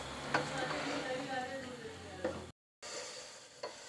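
Spices frying in oil for keema, a close sizzle with occasional stirring scrapes and clicks, interrupted by a brief silent gap before continuing more softly.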